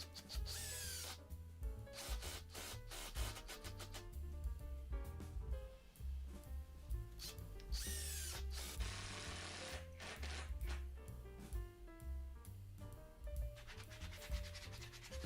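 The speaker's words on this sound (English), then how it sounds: "I'm going to be using these long screws to secure it." Long screws are driven into wood to secure a homemade vice mount, with repeated short bursts of a driver whirring and scraping, quiet and close, alongside some rubbing and knocking.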